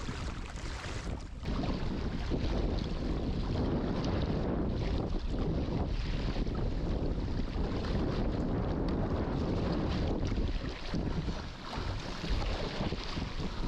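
A strong northerly wind at sea buffets the microphone of a kayak, a loud continuous roar with gusting surges and water sloshing against the hull, lasting the whole stretch with no one talking.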